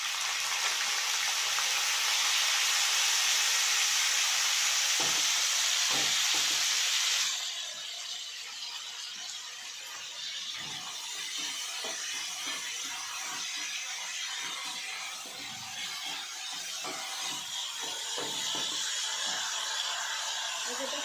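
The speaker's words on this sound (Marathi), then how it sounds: "लसणची फोडणी द्यायची." Garlic sizzling in hot oil as a tempering for a home-cooked Marathi dish, a loud, dense hiss for the first seven seconds that then settles into a steadier, softer crackle with small clicks and scrapes.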